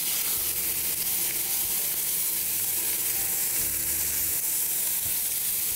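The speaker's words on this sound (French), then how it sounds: "faire cuire notre bacon tout de suite" Bacon fries in a pan, giving a loud, continuous sizzle with a crackling hiss and low, uneven bubbling underneath, heard close and alone.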